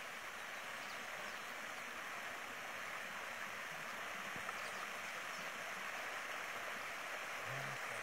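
Floodwater rushing into the dry bed of the Acaraú river in the northeastern Brazilian sertão, a steady broadband wash of flowing water heard continuously and fairly faintly throughout, with no voices.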